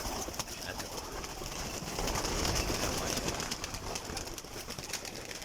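Pigeons coo in a loft with a large breed collection, a soft, low continuous murmur of several birds under a constant noisy background hiss.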